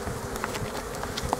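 Honeybees buzzing around a hive entrance on a sunny early-March day during a cleansing flight, a steady continuous drone with individual bees passing close by in brief louder swells.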